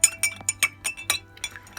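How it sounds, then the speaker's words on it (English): A metal spoon stirs salt into water in a glass, making a series of bright, close clinks at an uneven pace, about a dozen taps against the glass in under two seconds. "Give it a stir."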